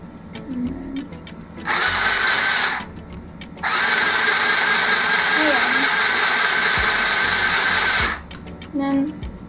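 A mini sewing machine stitching fabric, its motor giving a loud, steady whirring buzz in two runs, a short burst and then a longer one, with a voice speaking in the pauses.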